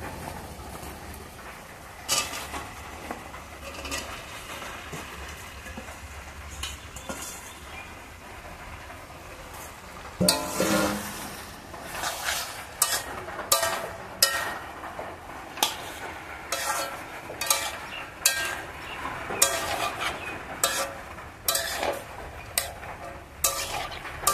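Potatoes frying with lotte fish in a pan, a soft sizzle at first, then loud, repeated scraping stirs in a fairly steady rhythm.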